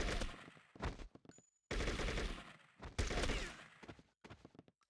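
AK rifle gunfire in True Crime: New York City comes as loud rapid bursts of automatic shots, separated by short silent gaps and a couple of single cracks.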